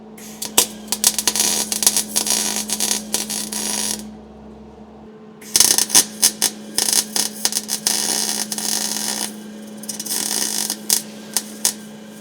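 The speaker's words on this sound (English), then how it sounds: "I'm going to weld it pretty sturdy, just because it's going to be holding up a bunch of weight." Welding temporary bracing onto a 1946 Pontiac body produces crackling, buzzing bursts over a steady electrical hum. There are two long runs separated by a short pause, close and loud.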